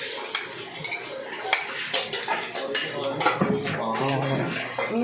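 Dishes and pots being washed in a kitchen, with clattering metal and ceramic knocks, scraping and splashing that grow busier toward the end, close and fairly loud, with some voices in the background.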